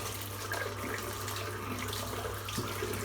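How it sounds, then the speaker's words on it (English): Shaving brush rinsed under a running bathroom tap during a head shave, a steady close hiss of flowing water that continues unbroken throughout. "I'm just going to rinse the brush out."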